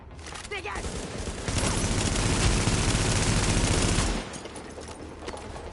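Sustained turret fire in The Division, a dense automatic burst running for about three seconds at close range, with a voice speaking briefly before and after the shooting.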